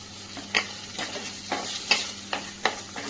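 Grated coconut is sautéed in a pan with tomato for a vegetable kootu, with a steady frying hiss and about six sharp scraping stirs at a regular pace.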